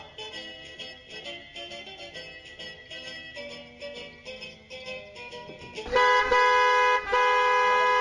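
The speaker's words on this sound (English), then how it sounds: "What a busy traffic on this Friday evening." Car horns honk in busy Friday evening traffic, several overlapping blasts that swell into loud, sustained tones over the last two seconds, above a steady layer of road and engine noise.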